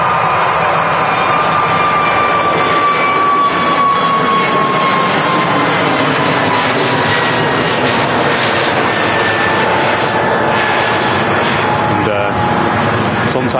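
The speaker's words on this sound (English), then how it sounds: "as you'll see as we switch over to this A321 Airbus Neo, the engines are a lot bigger" An Airbus A321neo's jet engines roar steadily at Manchester Airport, a loud continuous broadband rush with a faint whine, while a person talks over it.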